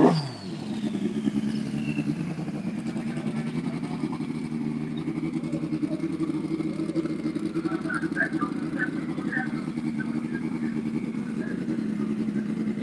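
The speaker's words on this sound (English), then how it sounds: "Here's the other bike coming up here" A nitrous drag-racing motorcycle at a drag strip runs a steady, loud engine drone, a continuous revving roar that holds for the whole stretch, with a commentator's voice faintly mixed in.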